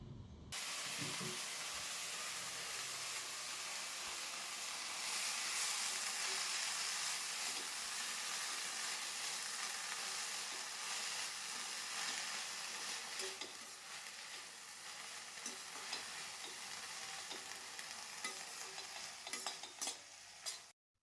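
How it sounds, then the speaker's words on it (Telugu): Green chillies fry in oil in a pan with a steady, close sizzle and hiss, broken by occasional stirring scrapes, with no talking. "పచ్చిమిర్చిలో కొంచెం ఆయిల్ వేసుకొని వేయించుకుందాము."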